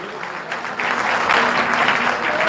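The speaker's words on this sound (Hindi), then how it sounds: "हमारे बड़े भाई कुलवीर धनोता जी के लिए जोरदार तालियां बजाओ" Audience applause at a live Guru Purnima gathering in Bhiwani for Kulveer Dhanota, dense clapping that swells and holds loud and close throughout.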